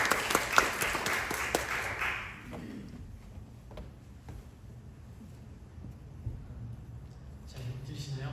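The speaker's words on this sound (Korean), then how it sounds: "저희 박수로 맞이해 주세요." A church congregation claps to welcome the pastor during a Sunday worship service, a short burst of applause that fades within a few seconds into quiet room noise, followed by faint talk.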